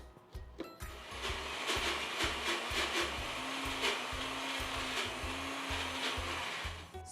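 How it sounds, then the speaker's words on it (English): A food processor grinds dahi vada batter with a steady motor whir and rapid rhythmic chopping thumps, running continuously and close for several seconds. "Close this and let the food processor do all the hard work."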